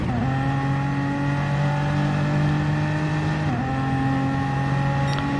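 Engine of a BMW race car in a sim racing game, a loud, steady high drone that holds near constant pitch with a brief dip partway through, no voices over it.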